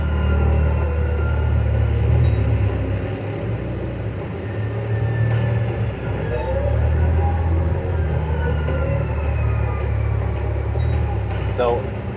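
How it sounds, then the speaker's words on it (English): Fuel system pumps aboard a spacecraft in a racing video game produce a steady low rumble and hum with faint whines, continuing throughout beneath someone talking. "the pumps that pressurize the fuel system will actually be audible to the pilot"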